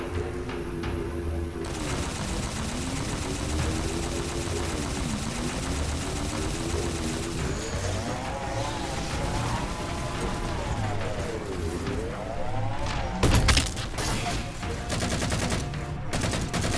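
Dense, continuous rapid gunfire in the Halo 4 Spartan Ops video game, with a wavering, rising and falling vehicle-like whine running underneath and a louder burst near the end.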